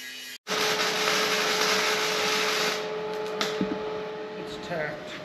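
An angle grinder runs with a loud, steady high whine after a brief silent gap at the start, easing slightly toward the end, during metal welding and tacking work.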